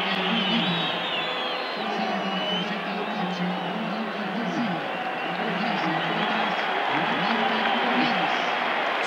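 Stadium crowd at the 2009 Bolivia versus Argentina World Cup qualifier applauds as a player leaves the pitch, a broad sustained roar with clapping and whoops, while a commentator talks over it.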